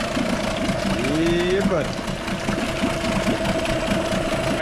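A small Nissan outboard motor idles steadily with a low, rapid knocking chug, close by, while someone briefly speaks over it.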